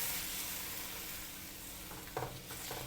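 Water, oyster sauce and sugar are stirred together in a hot pan, giving a soft, continuous sizzle with light scraping strokes, close but quiet.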